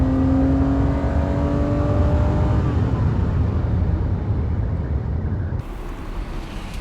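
A sports car engine, one of only about 20 in the UK, pulls hard and loud, its steady roar rising in pitch before a sharp drop near the end as it eases off.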